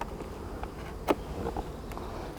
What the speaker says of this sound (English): So you see these bees flying around in the back,